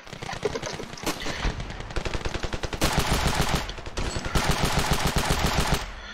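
Rapid bursts of gunfire in the Ravenfield battle game, with dense repeated shots in fast volleys and a few single cracks, loud and continuous with brief pauses between bursts.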